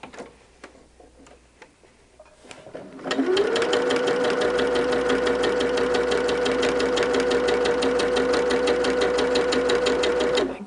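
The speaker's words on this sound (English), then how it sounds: "we have one piece we're sewing on the edge" Sewing machine stitching the edge of fabric for a Valentine's project: a few soft clicks, then a loud, fast, steady run of stitching with an even ticking rhythm lasting several seconds.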